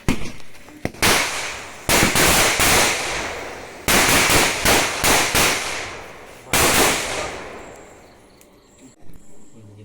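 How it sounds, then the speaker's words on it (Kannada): A long string of Diwali firecrackers bursts in loud, rapid crackling volleys, several separate chains going off one after another at close range, then dying away to quiet. "ಈಗ ಬಾ ಬೇತು ಬೇತು ಒಂದು ನೋಡಿ ಇಲ್ಲಿ ಮಾಲೆ ಪಟಾಕಿ ಬಿಡ್ತಾ ಇದ್ದಾರೆ."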